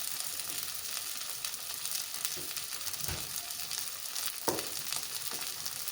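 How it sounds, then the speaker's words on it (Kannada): Seer fish (anjal) frying on a tawa over a low flame, a constant soft hiss of sizzling oil with occasional brief pops and stirring touches, fairly faint and uninterrupted by voices. "ಇದು ತವಾ ಫ್ರೈ"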